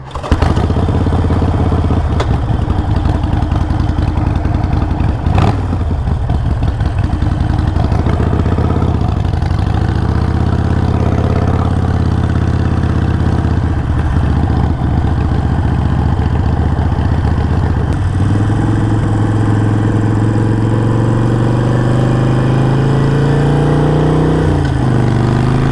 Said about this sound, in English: Guys, we are headed home from Harley. This is a fast little bike.